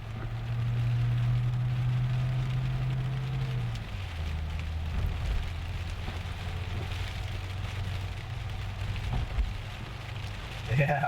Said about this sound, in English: here comes the rain finally